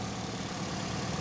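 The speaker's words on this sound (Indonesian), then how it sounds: "Dan ini suara mesinnya." The 1500 cc four-cylinder engine of a 2008 Toyota Yaris S Limited automatic hatchback idles with a smooth, even hum, heard briefly and at moderate level.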